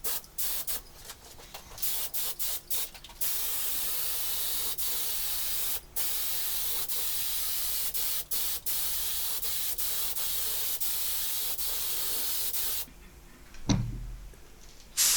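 A spray gun hisses in long, steady bursts broken by short pauses as it lays thinned lacquer onto a guitar body, with a quieter stretch and a brief knock near the end.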